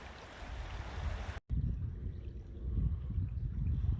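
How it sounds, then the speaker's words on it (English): Busy river water rushing steadily past a log crossing at a wide split in the channel, a loud low churning wash that continues throughout with a brief dropout partway. "the river sure is awful busy here"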